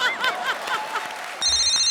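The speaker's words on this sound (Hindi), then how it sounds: "ए फोन आए, ओए रुको रे।" Telephone ringing on a comedy stage show, a short bright electronic ring that breaks in near the end after voices and laughter.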